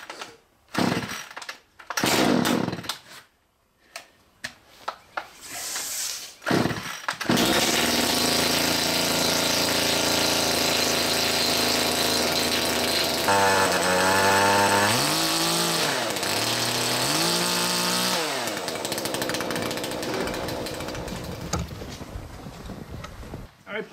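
A Poulan chainsaw, compared as an older model 5020 against a newer 3400, starts after several short bursts and then runs loud and steady close by, revving up and down a few times, with voices talking briefly before it fires.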